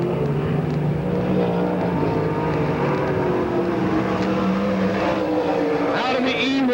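A stock race car with a Drain small block Chevrolet engine in a Rocket Racing chassis roars steadily around the Pennsboro Speedway track, loud and continuous, with a rising whine near the end and a voice talking over it.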